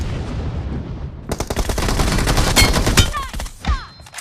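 Video game gunfire erupts after a quiet start into loud, dense bursts of rapid automatic shots and single cracks that carry on to the end, with no voices.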